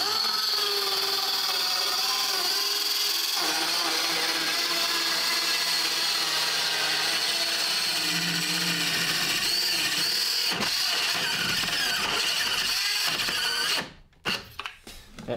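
A Parkside PHKSA 12 B3 cordless circular saw cuts a final piece of wood board, its high whining motor loud and steady for a long stretch before it spins down, followed by a few clattering knocks.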